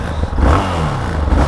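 A Yamaha XT660 motorcycle engine running close by, a loud, rough, throbbing single-cylinder chug with slight rises in revs over a short moment.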